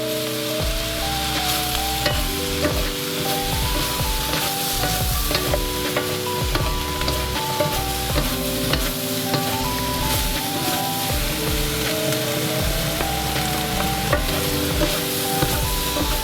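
Chicken and vegetables with courgettes fry and sizzle in a wok, a continuous loud hiss with steady stirring and scraping, while music with a melodic line plays along throughout.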